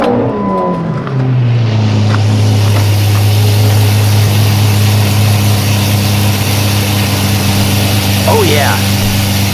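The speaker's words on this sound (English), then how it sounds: "So let's get a cold start on the Jeep and head to the airport." A Jeep engine cold-starts with a quick crank and settles into a loud, steady, rumbling idle close to the microphone. A brief chirp rises faintly near the end.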